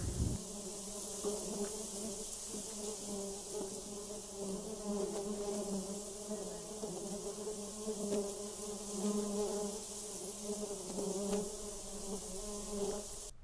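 Dense, steady buzzing of many honey bees around beehives in autumn, a continuous droning hum with individual bees passing close at moments, filling the whole stretch without talk.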